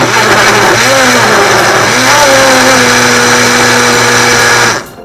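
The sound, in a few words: blender blending jalapeno and olive oil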